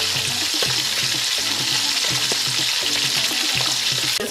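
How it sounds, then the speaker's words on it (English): Red rice fries in oil in a pot for lamb benachin jollof, a loud, constant sizzle with occasional stirring clatter and no talking. "Just frying, so we're just gonna give it a nice color because it's red rice"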